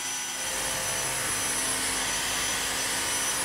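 A cordless vacuum cleaner sucks very fine dust off a hard floor, making a loud, steady, unbroken whine and rushing drone that holds at one level throughout.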